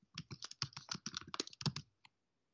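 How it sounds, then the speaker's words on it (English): Rapid, uneven clatter of keys on a computer keyboard as code is entered during a programming session, a dense run of close keystrokes for about two seconds, then a lone final tap and silence. "I think this is how you type it."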